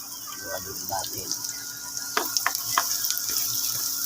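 Garlic sizzles in a pan for fried rice, a steady hiss of frying with a few sharper crackles and clinks of stirring, while a voice talks at moments over it.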